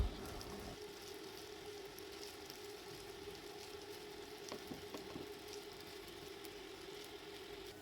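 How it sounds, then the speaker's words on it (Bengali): Rice mixed with spice paste sizzles and fries in a pan as it is stirred, a constant soft crackling hiss throughout. "চালগুলি হালকা নেড়েচেড়ে আগে থেকে পেস্ট করে রাখা মশলাগুলোকে দিয়ে ভালোভাবে মিশিয়ে নিব"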